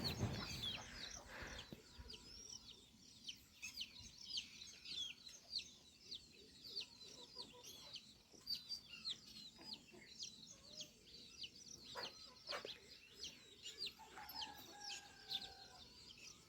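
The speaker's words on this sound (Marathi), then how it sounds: "इथे कोंबड्या बसल्यात वर." Farm chickens perched up high cluck and chirp in repeated short bursts, fairly faint and close, with other birds in the background.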